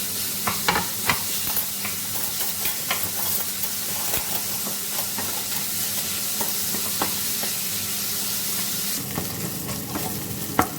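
Bacon frying in a pan for a creamy chicken and bacon carbonara, a steady close sizzle with occasional sharper crackles and stirring scrapes throughout, no talking.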